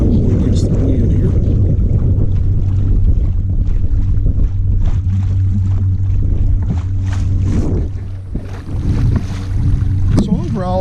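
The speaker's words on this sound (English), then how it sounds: "I'm going against the wind here." Steady wind rushes across the microphone on a pedal-drive PA12 kayak with an assisting motor, heading into a headwind on a winter bass-fishing trip, with a constant low motor hum underneath and loud continuous buffeting throughout.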